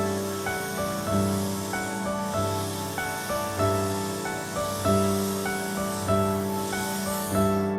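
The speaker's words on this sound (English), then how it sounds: "So we proceeded to spray all the boards with the sealer" Oil-based sealer sprayed onto wooden pergola boards in repeated hissing bursts from a pump sprayer, each pulse rising then cut off, steady and close with no talking.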